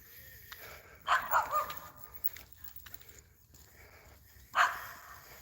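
A dog barks outdoors in a residential neighborhood of large houses by the water, two short bursts of barking a few seconds apart, moderately close over steady background noise.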